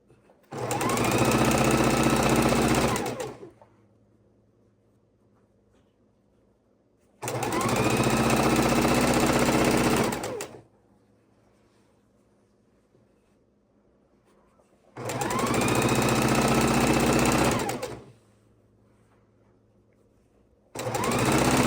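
Sewing machine stitching large quilt fabric pieces together, three runs of rapid rhythmic whirring of about three seconds each, separated by quiet pauses, with another run starting at the end.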